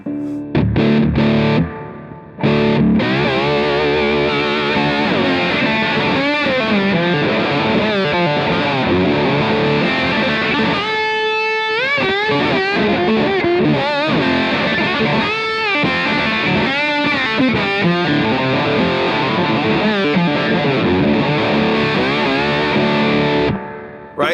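Lap steel guitar through a Wagner pickup, played loud with heavy distortion and chorus-like effects, sustained sliding notes and chords filling about twenty-four seconds with a brief drop near the start.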